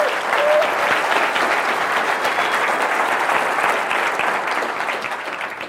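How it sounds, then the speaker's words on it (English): A conference audience at the 2009 MySQL Conference keynote bursts into a big round of applause, dense and steady, with many hands clapping at once for the whole stretch and no pause. "I just wanted to give you a big round of applause."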